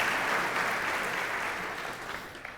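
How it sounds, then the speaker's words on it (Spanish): Studio audience applause on a television program, a dense burst of clapping from many people that starts full and gradually thins and fades over a few seconds. "nuestro público se ha atrevido a aplaudir"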